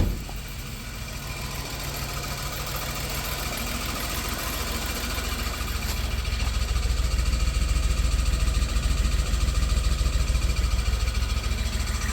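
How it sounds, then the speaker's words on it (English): The engine of a 1991 Dodge Grand Caravan SE idles steadily and close by, a continuous rumbling drone with a faint ticking knock that grows slightly louder over time. "so you know the motor's good. It runs okay."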